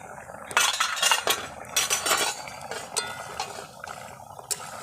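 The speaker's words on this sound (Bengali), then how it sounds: "ঢাকনাটা তুলে দেখব কীরকম হয়েছে" A metal lid lifted off a cooking pot of Bengali egg curry, giving a few close clinks and scrapes of metal against metal in a short irregular cluster, with no talking.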